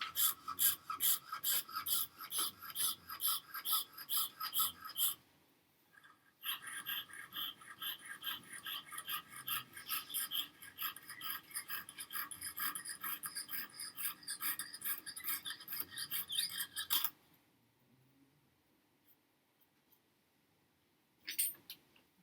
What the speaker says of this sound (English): you drill the holes as well, using the